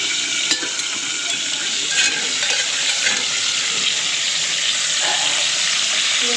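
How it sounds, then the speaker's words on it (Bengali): Flat beans fry in a pan in a home kitchen, giving a continuous close sizzle with a few sharp clicks and scrapes, steady and fairly loud with no talking. "এদিকে শিম ভাজা বসিয়ে দিয়েছি"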